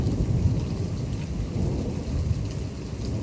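Distant thunder grumbles low and unbroken beneath a dense, even wash of rain pouring down during a thunderstorm in Troy, Illinois.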